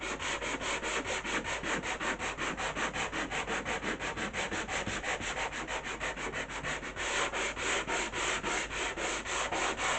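Light, steady sanding strokes rub across the painted finish of a wooden decoupage piece with an inset metal fitting, a regular back-and-forth scratching rhythm that holds evenly throughout with no talking.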